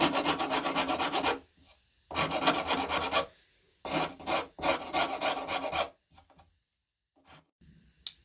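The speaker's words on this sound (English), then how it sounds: "So yeah, let's file this off anyway." A hand file rasps off a small bit of a build in steady strokes: three long scraping bursts, then a few short, quieter rubs and pauses, close and loud with no talking.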